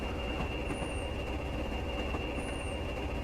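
A Class 20 diesel train rolls along in a railway simulator game, putting out a steady low rumble with a faint wheel squeal on top. The sound is quiet and continuous, and no voice is heard.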